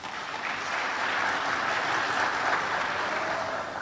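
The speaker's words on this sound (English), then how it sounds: "A round of applause for them," An audience claps at a public lecture event, steady dense applause that holds for several seconds without talking.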